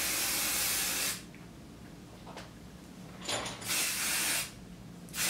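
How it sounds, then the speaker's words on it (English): Hairspray misted onto hot roller curls, three separate hissing bursts, the first about a second long and the later two shorter, close and fairly loud with quiet gaps between. "I'm gonna lightly start spraying these curls."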